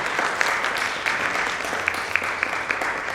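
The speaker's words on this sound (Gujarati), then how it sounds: "એમનું સૌથી પહેલાં તાળીઓથી અભિવાદન કરીએ" Audience applause greets the chairperson at a Rangotshav 2025 cultural gathering: a steady, dense crowd of clapping hands with sharper individual claps popping out, sustained throughout at even volume.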